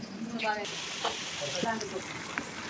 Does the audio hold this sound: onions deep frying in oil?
yes